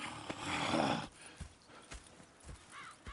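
Horses in the Red Dead Redemption 2 video game: hooves clip-clop at close range through the first second, with a whinny. Quieter scattered hoof thuds and shuffling follow to the end.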